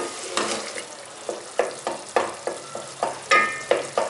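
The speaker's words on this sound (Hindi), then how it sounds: "इसको हम लोग अच्छी तरह भून लेंगे" Meat with ginger and garlic sizzles and fries in a pan, with a spoon scraping and stirring in regular strokes, close and moderately loud.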